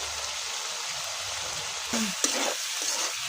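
Chicken liver masala being stir-fried in a pan, a steady soft sizzle with a few louder scraping stirs of the spatula near the end, no talking.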